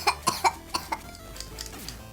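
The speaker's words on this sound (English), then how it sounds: "I think you've just got a bit of a cough." A person coughs repeatedly, five sharp bursts spaced about a quarter second apart, then fading into quieter rasping and throat noise, close and fairly loud.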